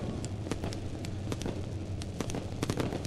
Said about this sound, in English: Lone Wolf Fireworks lighting up the sky